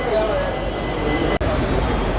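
A train pulling away from a station platform in Kollam, a steady loud rumble of wheels and carriages with a brief break partway through.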